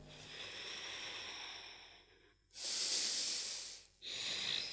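Deep breaths during a morning yoga session, a long soft inhale fading out, then a loud airy exhale and another breath starting, close and alone without speech.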